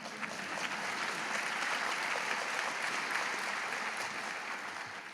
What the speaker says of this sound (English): I recognize that applause is for Joan